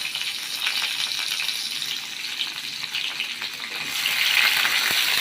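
Raw onions frying in a pan with fish tempering for a bitter-gourd fry, a steady close sizzle with fine crackle throughout that swells louder near the end, no voices.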